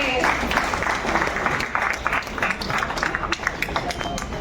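A crowd applauds at an indoor gathering, with dense, continuous clapping throughout, loud and close, and some individual claps standing out toward the end.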